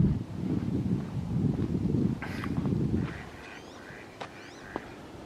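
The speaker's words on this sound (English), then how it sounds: "There's ducks out there." Ducks calling out on a partly frozen winter pond, a few short quacks and honks heard faintly at a distance over steady wind noise and footsteps.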